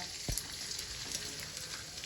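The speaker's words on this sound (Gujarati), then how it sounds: "આવી રીતે થોડો થોડો ગુણ તળવાનો" Steady hissing sizzle of urad flour dough pieces frying in hot ghee, close up, with a brief clatter near the start and no talking.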